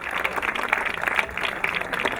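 Audience applause at a SOPART 2019 event: a steady wash of many hands clapping together throughout, fairly loud and continuous, with no talk over it.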